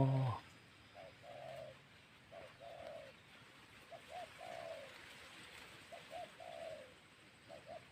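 A spotted dove coos in reply during dove hunting with a decoy, giving several soft, repeated coo phrases at moderate distance over outdoor background noise.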